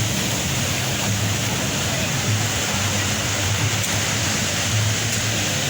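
Ocean surf at Copacabana beach rumbles as a steady, dense roar of breaking waves, loud and continuous with no clear gaps, heard without talking.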